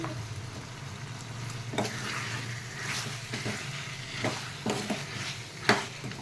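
Chicken and potato curry with turmeric being stirred in a pan, a continuous close sizzle broken by several irregular spoon scrapes and clinks against the metal, no voices.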